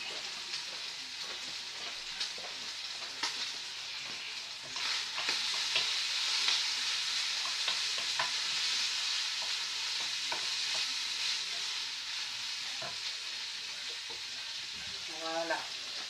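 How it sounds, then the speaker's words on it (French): Lardons fry in a pan for a chef's salad, a steady bright sizzle with scraping and clicking as they are turned, louder once they are stirred, with a faint voice now and then. "Je suis allée encore une fois retourner mes lardons."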